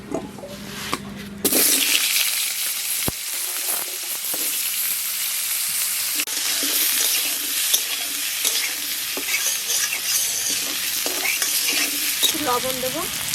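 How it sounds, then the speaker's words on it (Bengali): Potatoes fry in oil left from frying magur fish, with a loud, steady sizzle and repeated scraping stirs of the pan after a brief quieter start. "আলুটা ভেজে নেব।"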